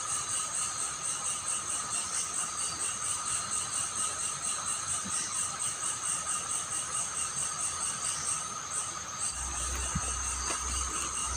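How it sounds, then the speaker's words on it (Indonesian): Steady, continuous cricket chirring fills a quiet night at a campsite without pause; a low rumble enters near the end. "Kayak masih sunyi, cuma suara jangkrik."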